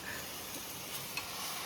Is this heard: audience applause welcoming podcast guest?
no